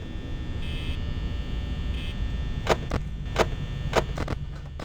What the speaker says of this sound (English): The lights flashing incessantly, humming in your ears